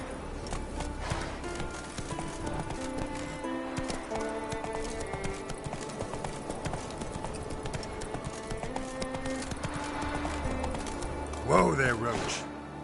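Roach, the horse in The Witcher 3 video game, gallops with rapid rhythmic hoofbeats over a musical score, slowing toward the end where a sharp whinny rises; a voice speaks briefly over the hooves.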